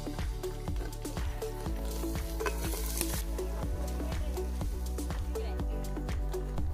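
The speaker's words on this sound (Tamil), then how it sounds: "புதினா கொத்தமல்லி தழையை நல்லா இந்த அளவுக்கு எண்ணெயிலே வதக்கி" Mint and coriander leaves sauté in hot oil for a chicken dum biryani, giving a steady crackling sizzle with stirring clatter as a voice talks over it.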